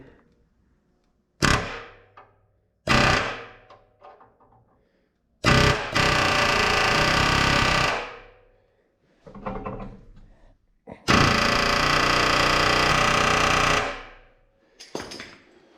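Sharp metallic hits followed by long, loud bursts of a pneumatic air hammer hammering on a Tri-Five Chevy frame's engine mounts, with quieter clanks and pauses between bursts.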